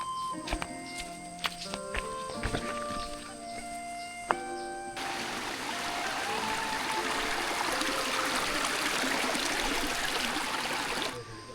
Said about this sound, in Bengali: ঝর্ণার কিন্তু সাউন্ড শোনা যাচ্ছে ভাই